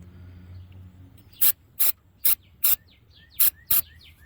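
Several short hissing bursts of starting fluid sprayed onto bare axle and differential metal to clean off petroleum residue, six quick sprays in an uneven rhythm, close and fairly loud, with faint birdsong in the background.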